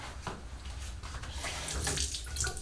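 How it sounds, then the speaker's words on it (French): A tap runs at a bathroom sink while a face is rinsed with lukewarm water, a steady close stream broken by a few splashes, with no talk. "je vais rincer mon visage"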